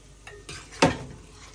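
A spoon stirs a nearly finished vegetarian potato and pointed gourd curry with cumin and garam masala paste in a pot, giving a few quick scrapes and one loud clattering knock against the metal.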